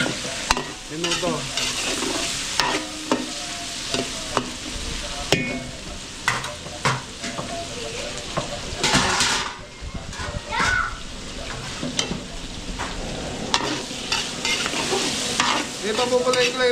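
Garlic and onion sauté in a large catering pan, a loud continuous sizzle with frequent stirring clatters and splashes, while voices talk in the background.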